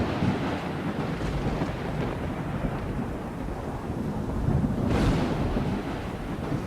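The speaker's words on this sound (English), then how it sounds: "A big storm has moved in and is producing cloud-to-ground lightning, the most dangerous type." A thunderstorm with cloud-to-ground lightning rolls over Battery Beach in South Africa. Low rumbling thunder and a wind-buffeted roar fill the whole stretch, with a swell near the end and no voices.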